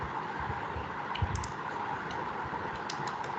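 Light typing on a computer keyboard, a handful of soft scattered key clicks over a quiet room hum, close and faint with no talk.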